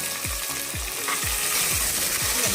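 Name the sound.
sautéing vegetables and tomato for veg biryani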